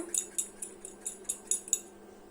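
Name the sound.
knife cutting pointed gourd into fine pieces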